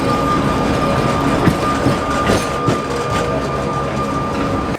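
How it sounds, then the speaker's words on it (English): A tram rolls downhill toward a port, its steady rumble, wheel clatter and a faint high squeal continuing throughout at close range with no talking. "Now we're about to get the last tram down to the port"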